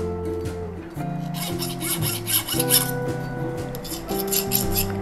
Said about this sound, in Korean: 이 꺼슬꺼슬한 부분을 이 줄로다가 살짝 밀어주면 아주 매끄럽게 돼요